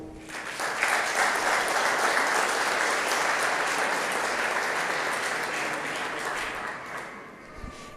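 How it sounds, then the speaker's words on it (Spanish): Warm, sustained audience applause at an evening book presentation, dense steady clapping from a full room rising quickly, holding for several seconds, then tapering off near the end. "Démosle en esta noche tan especial un fuerte aplauso."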